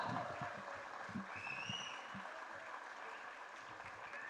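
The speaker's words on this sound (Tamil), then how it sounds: "எல்லாரும் ஒரு நல்ல கைத்தட்டல் கொடுங்க" Crowd at the Blue Star film event gives a round of applause, a soft, distant, continuous patter of clapping with some faint background voices mixed in.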